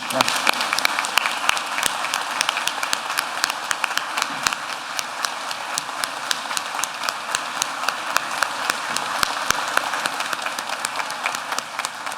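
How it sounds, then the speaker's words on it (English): Sustained applause at a high school graduation ceremony, a dense even roar of many hands clapping with sharper nearby claps standing out, filling the whole stretch without pause. "Please, a big round of applause"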